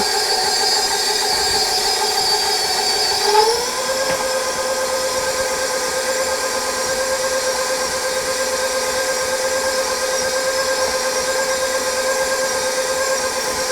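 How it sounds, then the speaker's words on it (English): KitchenAid stand mixer creaming sugar and butter, a steady motor whine that shifts pitch once early on, then holds a constant hum with no talk. "this is my second KitchenAid mixer"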